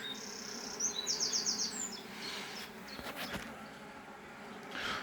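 Honey bees buzz steadily around a beehive apiary, a soft continuous drone with a few louder passes close by and faint bird chirps in the background.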